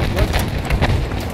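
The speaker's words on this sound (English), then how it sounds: "who's shooting all this artillery?" Artillery fire lands during a Battlefield V co-op match, heard as a few muffled low booms in quick succession under voice chat.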